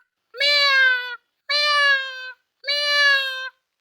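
A voice imitates a cat, giving three drawn-out meows in a row, each separated by a short pause, clear and close.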